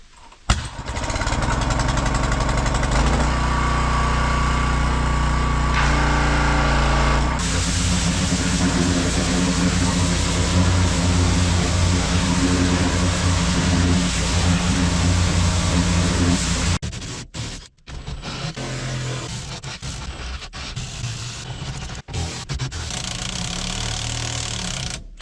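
A bulldozer engine, under maintenance with its exhaust pipe out of place, drones loudly and steadily. The tone shifts partway through and there is a brief dip before the engine carries on, with no voices.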